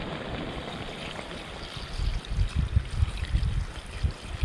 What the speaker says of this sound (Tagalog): Lagyan natin ng konting tubig wang.